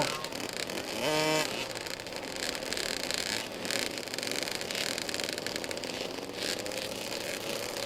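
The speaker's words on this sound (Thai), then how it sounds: "ตอนนี้สัญญาณการติดเครื่องยนต์นะครับ พร้อมแล้ว" Several small 50cc kids' motocross bikes fire up and rev at a Thai race meeting, with one engine quickly winding up near the start, then a continuous buzzing engine drone at mid-distance.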